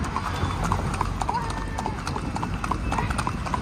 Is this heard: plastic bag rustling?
no